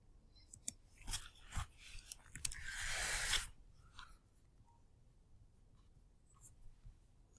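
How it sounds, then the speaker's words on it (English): Pen or pencil scratching across paper as a hexadecimal number is written down during a networking lab, a series of short close strokes with a longer continuous scribble in the middle, no talking. "So let me write that down."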